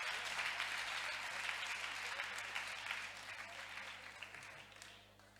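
A church congregation claps together in a sustained burst of applause that fades toward the end, with faint voices mixed in beneath it.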